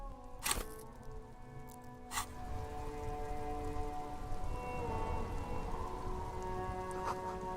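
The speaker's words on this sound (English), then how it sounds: "Because it's raining again." Steady rain falls in the Disco Elysium game world, a soft continuous hiss of rain on surfaces beneath a low sustained musical drone, with a couple of sharp clicks near the start.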